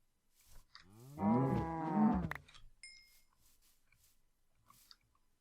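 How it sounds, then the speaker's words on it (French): A single drawn-out low moo from a cow in the Minecraft video game, loud and close, followed by soft clicks and faint chewing-like game sounds. "Ah, une vache."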